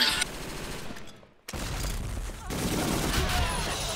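Sustained automatic gunfire rattles in an online shooter clan match, loud and dense, breaking off briefly before resuming as a continuous barrage.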